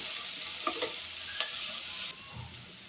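Poha being stirred and sautéed over a low flame with turmeric and salt, giving a soft steady sizzle with a few light spoon scrapes, close and quiet, with no voices.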